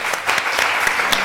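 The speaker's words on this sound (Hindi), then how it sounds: "तालियां ना रुकें" Studio audience clapping on a Ramzan special live TV show, a steady, fairly close wash of hand claps lasting just over a second with no voices over it.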